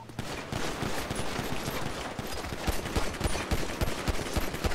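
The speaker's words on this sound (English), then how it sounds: "shots fired, officer down" Rapid gunshots fired at a police officer during a foot chase: a steady run of sharp, evenly spaced shots over a noisy background, loud and continuous for several seconds, with no talk.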